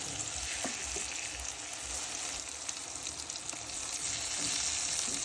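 A spoonful of garlic paste fries in hot oil for a fish curry, giving off a dense, steady sizzle and crackle close by for the whole stretch, with occasional faint stirring and no voices.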